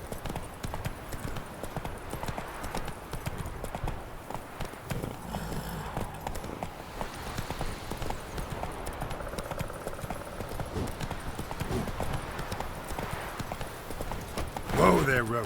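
Hooves of Roach, Geralt's horse in The Witcher 3, gallop in a steady, rapid clip-clop for the whole stretch over a layer of in-game ambience.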